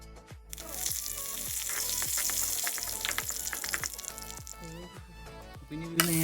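Mustard seeds splutter in hot oil for tempering, a bright crackling sizzle dotted with sharp pops and clicks, over faint tonal background sound, ending on a louder clatter.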